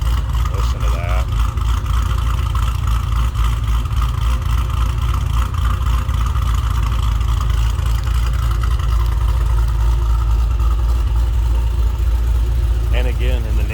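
A 2016 Dodge Challenger SRT Hellcat with a tuned supercharged engine of roughly 870 to 900 horsepower idling nearby, a loud continuous low rumble with a lumpy pulse, while someone talks over it.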